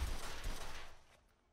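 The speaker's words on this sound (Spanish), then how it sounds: "Vamos a hacer unos pequeños disparos" Gunfire from a firearm in the crime game Mafia II, with a dense burst of loud shots over the first half second before the sound decays and fades out.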